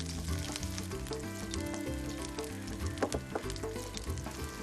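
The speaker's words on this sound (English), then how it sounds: "So you have to cook them in order so that all of them are evenly cooked. Start with onions and garlic." Onions and garlic frying in a pan give a steady, close sizzle, heard under a louder layer of tonal background music throughout.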